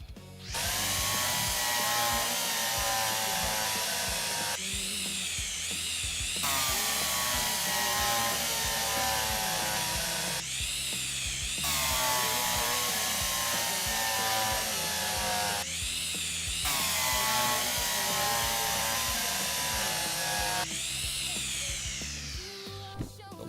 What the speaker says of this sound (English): Get the drill.